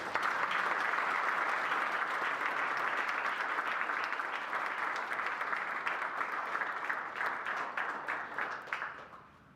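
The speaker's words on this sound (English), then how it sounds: "Give them a round of applause." Long round of audience applause at a university athletics hall of fame ceremony, thick and even at first, then thinning into scattered individual claps before fading out near the end.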